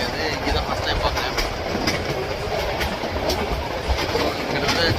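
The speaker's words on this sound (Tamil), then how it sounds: "கிட்டத்தட்ட ஜங்கிள்குள்ளே தான் ட்ரெயின் போயிட்டுருக்கு" A passenger train running through the Gir forest, with a loud continuous rumble and steady clickety-clack of wheels on rails throughout, heard close up from on board.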